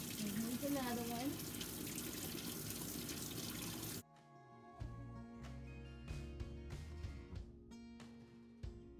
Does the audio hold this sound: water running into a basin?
yes